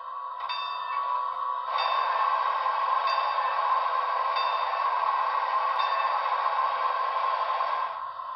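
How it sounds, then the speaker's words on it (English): Sound-equipped DCC model of a New Haven I-5 streamlined steam locomotive from Broadway Limited rings its bell, a bright, sustained electronic ringing tone with faint repeated strikes, steady and close for about six seconds before cutting off. "Here's the bell."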